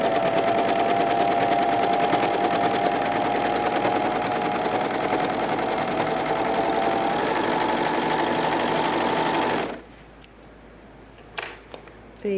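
Pfaff Coverlock 3.0 serger stitching a 4-thread seam on stretch fabric, a steady close mechanical whir running continuously for about ten seconds, then stopping abruptly, followed by faint handling clicks.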